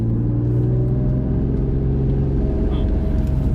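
A Nissan R32 Skyline with a straight-piped exhaust cruises along, a steady low droning hum heard from inside the car, with voices talking over it.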